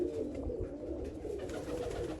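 Steady low cooing of several pigeons of the Babe Talhe wali bloodline, a continuous throaty murmur that fills the whole short stretch at moderate volume.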